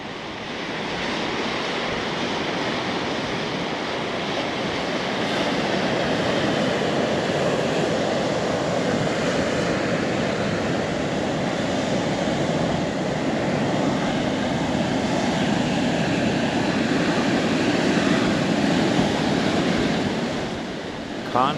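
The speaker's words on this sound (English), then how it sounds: "constant roar of that water. It never ever stops." Pacific Ocean surf at Seal Beach, a constant, unbroken roar of crashing water, fairly loud and close, with some wind buffeting the microphone.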